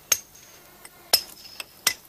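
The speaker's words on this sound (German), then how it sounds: "Jahrhundertelang muss durchs Tal von Petra das Echo der Hammerschläge geklungen haben." Three sharp metallic hammer strikes on rock, evoking stonework carving at Petra, each a crisp ringing clink spaced about a second apart with faint echoing taps between, close and otherwise quiet.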